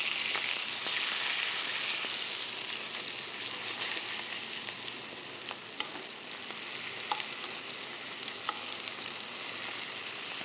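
Ribeye steak sizzles steadily in butter in a hot pan, a dense, even frying hiss with faint crackles throughout and no talking.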